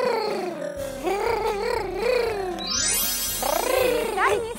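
A person's voice imitates a small kitten meowing, with a few drawn-out, wavering meows up close and loud over a steady background bed.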